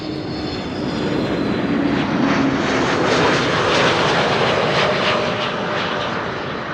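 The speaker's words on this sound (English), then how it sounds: "I am going to show you Shamrock Aer Lingus, arriving from Dublin" An Aer Lingus jet airliner arriving from Dublin at Amsterdam Schiphol passes close, a loud, steady broadband engine roar with a faint whine that holds throughout, peaking slightly midway.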